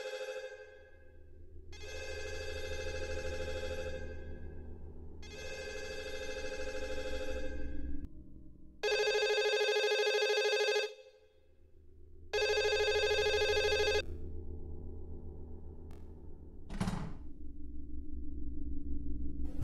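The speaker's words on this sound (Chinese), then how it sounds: "这时对面月台突然传来了电话铃的声音。" A telephone rings from the opposite platform of a train station in repeated electronic bursts, each a couple of seconds long with short gaps between them, over a low steady background hum, followed by a brief sharp sound near the end.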